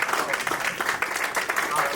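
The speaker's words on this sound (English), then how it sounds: "big round of applause for these two people that have just put on an amazing" Steady audience applause from a crowd at a live talk, dense and continuous for the whole stretch at a fairly loud level, with no voices over it.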